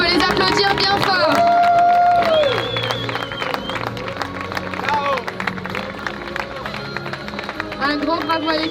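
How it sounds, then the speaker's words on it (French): A crowd in Marseille claps and cheers for the crew of the sail training ship Le Bel Espoir as it ends its Mediterranean voyage, a busy, fairly loud round of applause mixed with crowd chatter and an announcer's voice. "On peut les applaudir bien fort."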